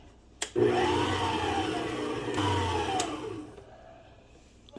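An electric hand mixer whirs through cake batter with vanilla for a lemon pound cake, a loud steady motor drone starting after a clunk, dipping briefly mid-way, then winding down near the end.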